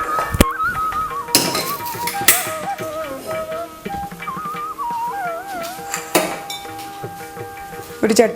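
A metal cooking pan is set down on a kitchen stove, giving a few sharp clanks and clinks spread across the stretch, with a voice and tonal background sound running underneath.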